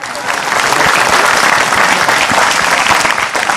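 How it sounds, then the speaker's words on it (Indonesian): Congregation at an Islamic religious gathering breaks into loud, dense applause that holds steady from start to finish, a continuous wash of many hands clapping close by. "Boleh tepuk tangannya."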